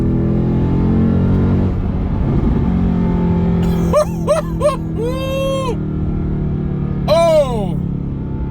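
A 2007 Mercedes-Benz CLK63 AMG engine rumbles steadily from inside the cabin, with short sharp revving bursts as it accelerates and shifts gears, then a final rising rev, while people exclaim in excitement over it.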